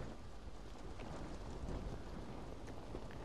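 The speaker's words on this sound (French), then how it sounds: "j'aime trop la pluie et le vent" Rain and wind in Dying Light 2, a faint, steady wash of falling rain and blowing air with a low rumble, continuous and even with no talking.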